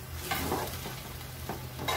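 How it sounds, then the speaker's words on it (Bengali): Sweet semai vermicelli being stirred in a pot on the stove, a steady close scraping and gentle sizzle with a few louder strokes, no voices. "এভাবে নাড়তে নাড়তে এক সময় আমাদের সেমাই হয়ে যাবে"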